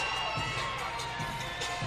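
An arena crowd at a college gymnastics meet between Utah State, NC State and Bowling Green cheers loudly and continuously during a floor routine, a dense roar of voices with bursts of shouting.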